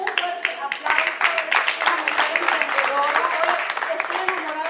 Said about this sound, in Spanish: Démosle a Fanny Reyes, démosle un fuerte aplauso